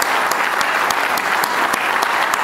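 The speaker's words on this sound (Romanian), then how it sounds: "haideți să-i mai aplaudăm o dată" Dense, steady audience applause fills a hall at the launch of a political movement, Sala Dalles, with many hands clapping evenly throughout and no talk over it.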